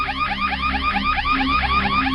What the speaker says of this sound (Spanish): oí que en mi oficina sonaba una alarma